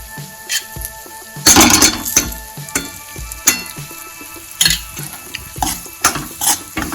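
Wheat flour roasting in ghee for Gujarati sheera, stirred in a pan over a medium flame; soft sizzling with repeated scraping and clinking strokes of the spoon against the pan at close range.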